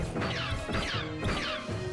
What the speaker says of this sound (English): They just explode.